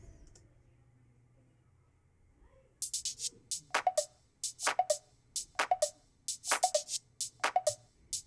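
Panned hi-hat from a song's verse building toward the second chorus, entering after a quiet opening as crisp, bright ticks in a steady syncopated rhythm, alone and close.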